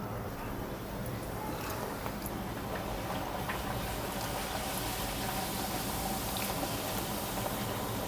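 A small piece of wheat dough sizzles in hot oil while testing the temperature for puris, a steady faint bubbling hiss with scattered tiny pops, quiet and continuous throughout.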